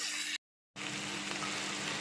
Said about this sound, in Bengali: দিয়ে একটু মশলাটা ভাজা ভাজা করে নিচ্ছি